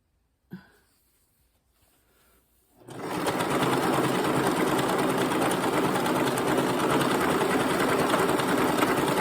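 A sewing machine stitches a jelly roll quilt, starting after a brief click and quiet moment, then running in a loud, steady, fast whirring hum close by.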